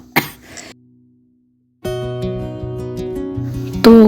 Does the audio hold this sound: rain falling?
no